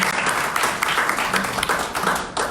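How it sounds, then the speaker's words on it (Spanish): Applause from an audience welcoming a presenter at a book presentation in Xalapa, a steady, fairly loud wash of clapping with a few sharper individual claps, lasting a few seconds. "recibamos a nuestro presentador con un fuerte aplauso"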